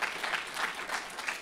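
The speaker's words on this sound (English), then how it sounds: "You can clap for her again," Audience clapping at a community gathering, a brief burst of fairly faint, even applause in a loose pulsing rhythm.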